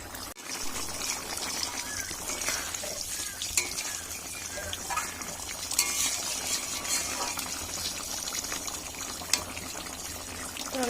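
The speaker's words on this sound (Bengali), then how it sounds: "ঝোলটা আমি আরেকটুখানি টানিয়ে নেব।" Duck egg curry gravy bubbles and sizzles steadily in a pan as it reduces, with a constant frying hiss, occasional stirring scrapes and small clinks, close and continuous.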